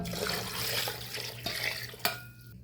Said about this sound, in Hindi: अब मैं इसमें पानी डालूँगी। इतना पानी डालना है कि पाया हमारा डूब जाए।